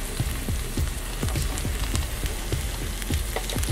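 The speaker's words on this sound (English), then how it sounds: "Oh, look at this sizzle." Frozen breaded chicken fries in hot oil with a dense, steady crackling sizzle, close and continuous, with scattered sharp pops throughout.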